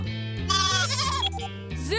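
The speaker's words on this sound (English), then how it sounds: "Mayor Goodway told me my goats were here." Goats bleat, rising and wobbling cries over steady background music, several calls in quick succession, close and loud.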